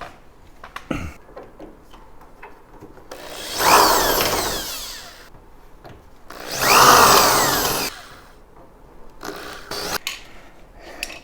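Rivets on the rear hatch of a 1940s vintage teardrop trailer being drilled out, with two loud, close bursts of drilling a few seconds each, separated and followed by light clicks and handling noises.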